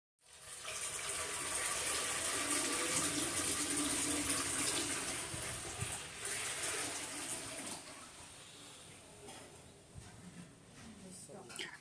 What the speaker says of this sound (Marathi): पातेल्यामध्ये पाणी टाकलं.